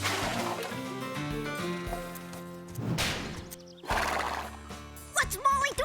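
A cartoon horse whinnies loudly over background music, with hooves clip-clopping and voices in the scene.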